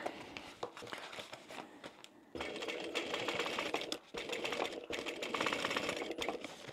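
A sewing machine top-stitches along the zip of a small fish-shaped zip pouch, running in steady mechanical bursts that pause briefly and then resume, close and fairly loud with no talking.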